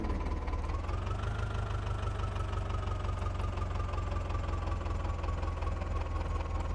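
A John Deere tractor engine in an Indian tractor simulator game idles and runs steadily throughout, a constant low droning rumble with a faint rising whine early on and no talk.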